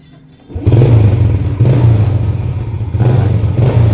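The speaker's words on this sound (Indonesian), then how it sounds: "Ini starternya nggak hidup, harus diengkol." A Yamaha Jupiter Z motorcycle with a makeshift exhaust made from scrap sheet metal is kick-started and catches, then settles into a loud, close, steady idle with a slight rise in revs near the end.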